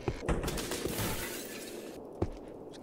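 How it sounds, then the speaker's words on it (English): A cabin gets smashed up in the zombie survival game Cataclysm: Dark Days Ahead. Glass shatters and debris crunches loudly and harshly for about two seconds, followed by one sharp crack. "Just smashing up your cabin."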